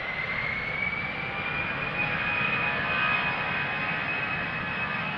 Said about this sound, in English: Air Portugal, Airbus is spooling up and taking off